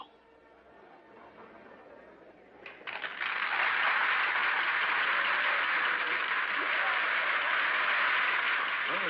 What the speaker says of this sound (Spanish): Aplauden al director de orquesta